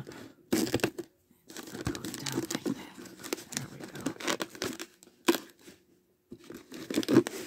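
A plastic container is cut open for winter sowing, with crinkling, tearing and crunching of plastic in irregular close bursts and brief pauses.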